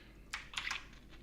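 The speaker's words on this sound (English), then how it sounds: "So now, if I type this in, it should give us exactly what I want." Keys on a computer keyboard tapped in a short burst of a few quick strokes, fairly close and clear against a quiet room with no voices.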